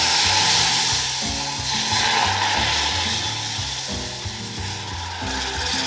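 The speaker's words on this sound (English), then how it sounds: "stir it through and start to cook that flour down" Flour roux cooking in a pan, stirred with a steady sizzle and a rhythmic scraping of the utensil across the pan, loud and close with no voices.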